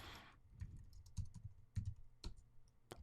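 Fingers type a short search on a computer keyboard, a quiet run of close, soft key taps in small irregular clusters with a louder clack at the end.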